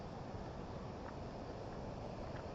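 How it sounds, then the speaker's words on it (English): A waterfall on a tomato and bell pepper farm in Kirinyaga, Kenya, makes a steady, even rush of broadband water noise that is fairly faint and heard from a distance, with no talking. "Yeah, there's the sound of the waterfall."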